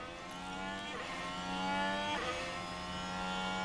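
A Formula 1 car engine in the F1 Manager 23 racing game, with deploy used to pull away after an overtake at the Miami Grand Prix. It holds a steady, buzzing high-revving whine that rises slightly in pitch, with no voices.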